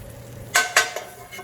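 A spatula scrapes and taps against a pan while cheesesteak filling is scooped together: two sharp metallic knocks close together, then softer scrapes over a faint sizzle.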